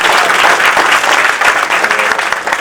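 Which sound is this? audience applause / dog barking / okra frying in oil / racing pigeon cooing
audience applause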